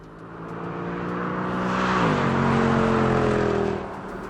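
A first-generation Mercedes-Benz CLS with the M113K supercharged 5.4-litre V8 and five-speed automatic accelerates hard, its loud engine roar climbing in pitch, shifting once midway, then easing as it fades slightly at the end.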